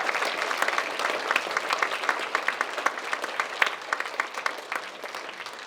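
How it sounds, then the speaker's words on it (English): A theatre audience applauds steadily at an evening college public-speaking showcase, a dense sustained wash of many hands clapping at moderate distance with no voices on top. "We'd like to have one more big round of applause for all of our presenters"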